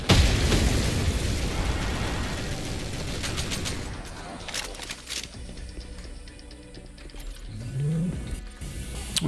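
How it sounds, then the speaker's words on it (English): Barrels exploding in the video game Doom, on a Dragon Sector remake map: loud, dense booming blasts that pile into a continuous roar with crackling bursts, heard alone without talk. "I mean, the barrel's explosions. Really feel really powerful."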